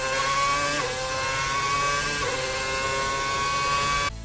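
An F1 car's V8 engine sounds out as a loud, sustained high-pitched scream with slight pitch shifts, cutting off abruptly near the end.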